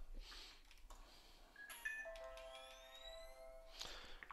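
A phone notification or ringtone chimes faintly once with a few bright, sustained electronic tones, heard quietly during a pool live stream amid low room noise.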